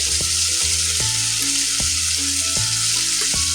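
Tomato frying in a pan with coriander, turmeric and red chili powder, a steady close sizzle under regular scraping strokes of a spoon stirring the mixture.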